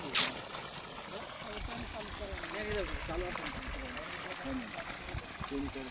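Water gushes under pressure from a 3 HP borewell solar pump, a steady close rush running throughout, with someone talking over it.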